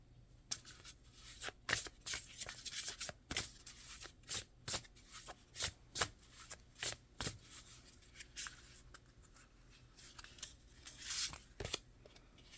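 A deck of tarot cards is shuffled by hand at close range, making a series of quick, crisp riffling bursts in a steady rhythm with short pauses between them, and no speech.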